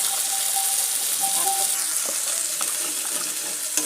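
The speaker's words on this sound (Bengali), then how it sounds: "দেখো হলুদটা দিয়েও কিন্তু খুব সুন্দরভাবে আমি এগুলো ভেজে নেব।" Ginger-cumin paste and turmeric fry in a pan with a steady, close sizzle and hiss, plus a few faint stirring scrapes.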